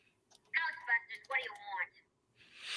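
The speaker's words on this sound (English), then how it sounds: "That was my phone." A mobile phone rings with a warbling, chirpy electronic tone in two close bursts, fairly clear over a quiet background, followed by a hiss.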